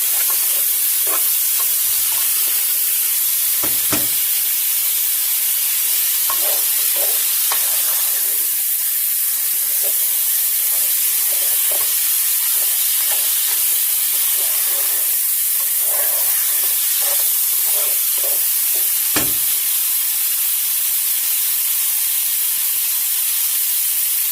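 Mutton pieces frying lightly in about one and a half teaspoons of oil in a pan for Peshawari namkeen gosht, a loud continuous hiss and sizzle with occasional stirring knocks.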